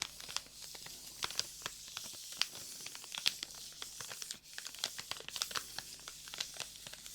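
Crisp, irregular crinkling and tearing of a material, a quiet close-up stream of sharp crackles and rustles with no voices, like an ASMR trigger.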